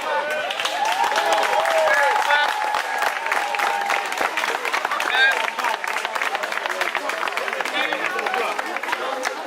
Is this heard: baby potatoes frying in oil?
no